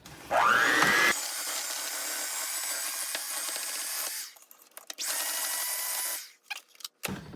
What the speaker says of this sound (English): And I use the electric mixer for this.